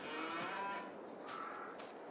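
Calves in the video game Farming Simulator 22 moo several times in a row, with soft overlapping lowing calls at moderate distance and no talking.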